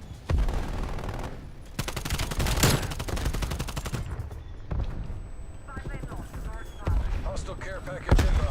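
Shotgun blasts in Call of Duty: Cold War multiplayer, loud booming shots in irregular bursts mixed with other gunfire and game noise, while a voice talks over the action.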